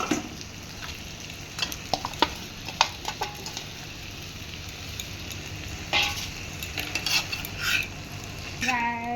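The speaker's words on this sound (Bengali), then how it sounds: "পেঁয়াজ ভাজা হচ্ছে" Onions fry with potatoes in a pan, a constant soft sizzle broken by repeated scraping strokes of a spatula stirring against the metal, close up.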